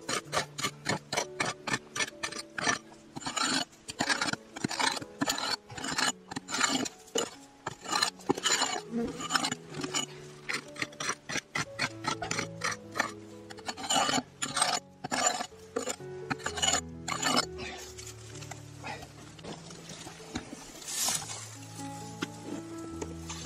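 A tool scrapes across a hard surface to open up its cracks, making dense, rhythmic rasping strokes that repeat rapidly and loudly, then turn into a rougher, more continuous grinding toward the end.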